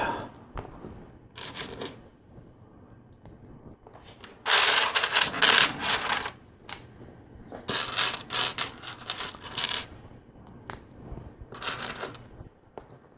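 LEGO Technic pieces and studs from a Ninjago Destiny's Shadow set being handled and clicked together, giving bursts of close plastic rattling and clicking with a loud stretch of shuffling, then quieter taps, no voices.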